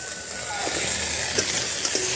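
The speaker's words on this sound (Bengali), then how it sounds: "আর একটু গুঁড়ো লঙ্কা দিয়ে মশলাটা ভালো করে কষে নেব" Spice paste with turmeric and chilli powder fries in a pan before fried koi fish goes in, cooked village style; a soft continuous sizzle with faint stirring, fairly low in level.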